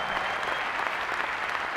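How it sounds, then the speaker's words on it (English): A large audience at the WWE Hall of Fame ceremony applauds loudly in a continuous wash of clapping that carries on without a break. "let's have a big round of applause for Jimmy Superfly Snuka"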